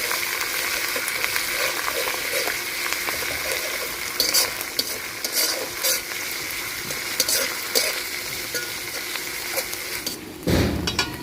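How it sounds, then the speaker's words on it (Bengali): Browned onion with garlic, ginger and cumin paste frying together in a pan, a continuous sizzle with repeated scraping stirs and metallic clatters of the spoon, a louder knock near the end. "এখন দিয়ে দিব রসুন বাটা, আদা বাটা, জিরা বাটা, সব মশলা একসাথে কষাই নিব"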